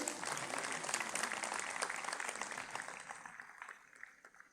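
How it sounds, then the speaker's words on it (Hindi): Audience clapping loudly at the inauguration of a spiritual camp, a dense steady applause that thins and fades toward the end. "ताली बजाइए आप जोर से।"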